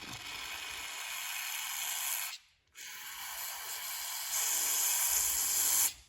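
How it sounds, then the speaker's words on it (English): Brake cleaner hisses in long continuous bursts from an aerosol can onto a brass carburetor part of a Troy-bilt snow blower, two steady sprays split by a short pause, close and loud. "let's try a little bit of brake cleaner here, a little bit of carb cleaner, brake cleaner"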